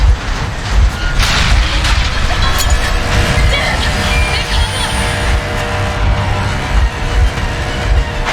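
Train engine running in the video game Metro Exodus, a steady loud rumbling drone with mechanical clatter throughout, mixed with game sounds and a voice.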